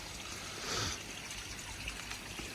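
Pond water runs through a drum filter and back out a spray bar, a faint, steady trickle with a slight surge near the start and no voices.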